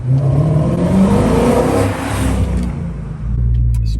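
A BMW E92 M3 with a manual gearbox revs hard under acceleration toward a high-rpm scream; the loud, sustained engine note climbs, dips briefly around a shift, then rises again.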